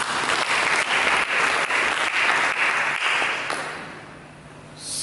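Loud, sustained applause from a crowd, dense clapping that stays strong for several seconds, then thins and fades toward the end.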